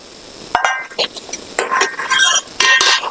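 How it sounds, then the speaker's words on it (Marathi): Shallow-fried chickpea flour pieces being stirred into masala in a pan, with metal spoon clinks and scrapes against the pan in quick, close bursts. "त्या आपल्या शालो फ्राय केलेल्या वड्या आहेत ना त्या आपण याच्यामध्ये टाकून थोडंसं मसाल्यामध्ये हलवून घेऊया"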